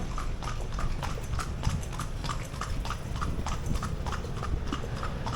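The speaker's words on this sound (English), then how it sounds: "How better to check out a city than from a horse-drawn carriage, such as this one that we are riding on." Horse hooves clip-clopping steadily on a street while pulling a tourist horse-drawn carriage through the old town of Lampang, a regular close rhythm of bright clops over rolling background noise.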